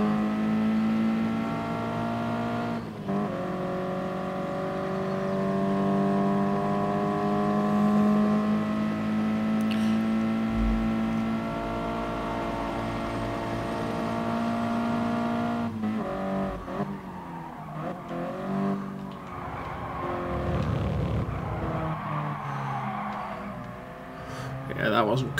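In a GT Sport race car game, engines drone and rise in pitch through long held gears, with shifts and a busier stretch of overlapping cars and tire noise near the end, while someone talks over them.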